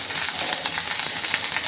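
Crushed ginger and garlic fry in a hot pan, giving off a steady, close, bright sizzle that crackles evenly throughout with no pauses and no talking.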